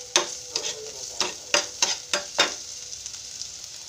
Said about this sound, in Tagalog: Igisa lang natin.